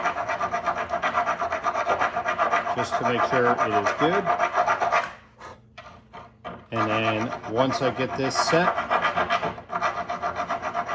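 A file rasps back and forth in strokes against a hole in a wooden car-trunk side panel, a close scraping rhythm that breaks off briefly midway, with someone talking over much of it.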